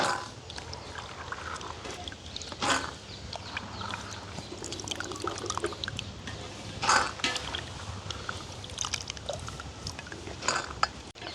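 Soaked urad dal for vada being drained of its water: uneven splashes and trickles with sharp clatters, close and moderately loud, with no talking.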